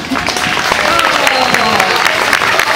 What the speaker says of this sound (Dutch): Nou, even een extra applaus voor deze dansgirls.